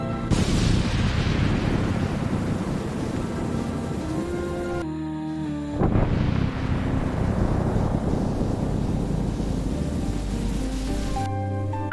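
Loud cartoon thunder crashes twice during a heavy storm, each clap breaking over a steady roar of pouring rain.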